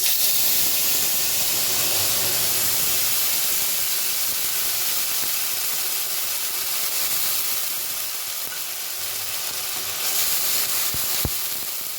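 Spice paste sizzles loudly in a kadai of hot oil just after a cumin tempering. The bright, steady hiss fills the whole stretch, with a sharp tap near the end.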